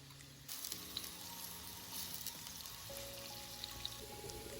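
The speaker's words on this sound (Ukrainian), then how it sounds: "На сковорідку вливаємо олію, викладаємо нашу цибульку і смажимо до золотистості" Onion frying in oil in a pan on the stove, a faint continuous sizzle with soft crackles and pops, steady and close, starting after a brief quiet moment.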